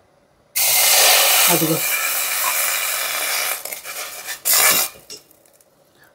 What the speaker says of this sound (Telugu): సో ఇది మీకు వాటర్ కొద్దిగా వేసి చూపిస్తాను ఎంత హీట్ ఉందో.